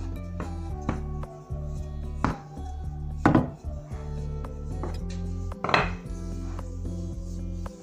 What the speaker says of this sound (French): Je vais essayer de couper un petit peu les bordures.